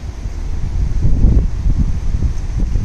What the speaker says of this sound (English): there comes the wind